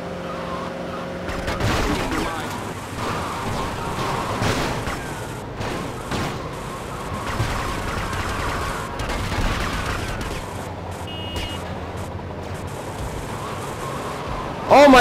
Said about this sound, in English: Get those guys, they're shooting me.